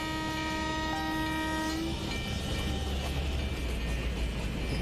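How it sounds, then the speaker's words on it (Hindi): A WAG12B electric locomotive hauls an oxygen express train at full speed near 120, with a sustained horn blast at the start giving way to a steady roar and rumble of wheels on rails. "देखिए बहुत ही फुल एमपीएस में ट्रेन जा रही है, और हमारी ट्रेन भी लगभग 120 पर पहुंच चुकी है।"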